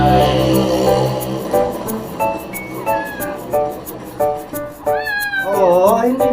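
Cat meowing with rising, wavering cries late on, close and fairly loud, amid dog-and-cat play at home, with talk and background music throughout.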